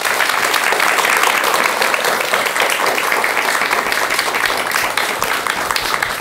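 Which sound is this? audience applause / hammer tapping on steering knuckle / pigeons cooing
audience applause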